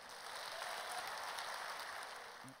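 A church congregation applauds together in a dense, steady wash of clapping that fills the room for a couple of seconds, then begins to fade.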